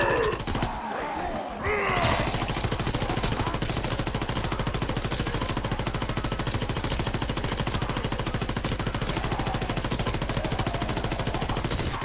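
A gun in Call of Duty WW2 Zombies fires in a rapid, continuous automatic stream, loud and sustained for most of the stretch after a brief rumbling opening.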